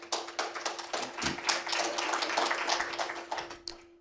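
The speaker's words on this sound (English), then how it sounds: "Are you clapping for yourselves then?" Audience clapping at a spiritual talk, a scattered patter of hands that swells into steady applause and thins out toward the end, moderately close, with a faint constant hum beneath.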